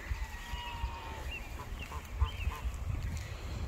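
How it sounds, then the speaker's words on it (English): Wet geese give several short honks in quick succession on a farm where a peacock and a swan are also kept. The calls sound moderately distant and faint over a low, rumbling outdoor background. "And there are the wet geese."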